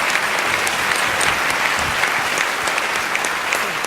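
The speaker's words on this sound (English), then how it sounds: "Deserve a nice round of applause, I think." At a gala, an audience applauds after a song, with a loud, steady wash of clapping from a crowd that fills the whole stretch.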